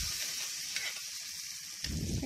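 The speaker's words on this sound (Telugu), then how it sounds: "ఈ తాలింపు వేగుతూ ఉంటే" Telugu tempering (talimpu) fries in a pan for gongura dal, a steady close bright sizzle with small crackles and a brief stir noise, no voices.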